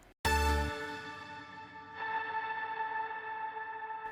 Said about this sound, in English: I do want to go ahead and get a send going where we can add some extra delay and reverb